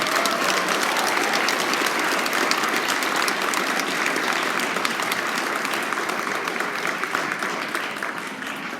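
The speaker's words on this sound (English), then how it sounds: "Maybe we could give those grade 5s a big round of applause." A concert audience of parents gives a grade 5 school band a big round of applause at a spring concert, steady dense clapping filling the room throughout and easing slightly toward the end.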